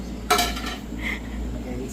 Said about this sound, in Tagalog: Bawang tsaka Sibuyas. igigisa muna natin siya,